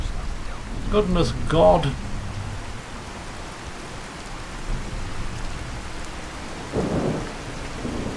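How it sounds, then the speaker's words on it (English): Rain and thunder from a storm in the video game Fallout 4, with a steady hiss of rainfall throughout and a low thunder rumble swelling near the end, while someone speaks briefly at the start. "Oh, and it's raining."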